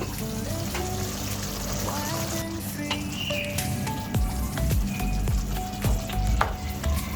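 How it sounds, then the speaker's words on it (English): Meatballs being stirred in gravy in a pan, with a steady close sizzle and simmer under wet spoon scrapes and soft clinks against the pan, no talking. "I'm just making sure everything is coated in the gravy"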